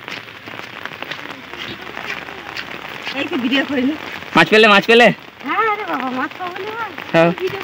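Heavy rain hisses steadily throughout while people talk over it, their voices growing louder toward the end.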